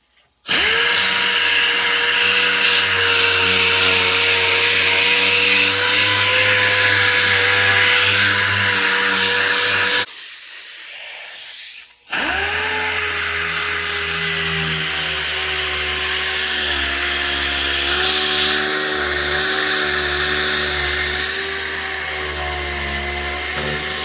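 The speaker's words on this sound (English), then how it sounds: "I got my sander with some 80 grit sandpaper on it. We're going to sand this down until it's bare metal." A power sander fitted with 80 grit sandpaper grinds a vehicle emblem down to bare metal, a loud steady whine with tonal hum that cuts out briefly near the middle, then restarts and runs on, no speech.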